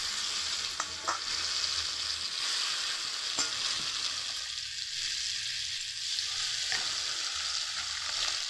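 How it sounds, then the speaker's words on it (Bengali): Panch phoron spices crackle and sizzle in hot oil, a steady close frying hiss with occasional pops and stirring sounds, no voices. "এবারে আমি পাঁচফোড়ন দিয়ে দিচ্ছি ওই তেলের মধ্যেই"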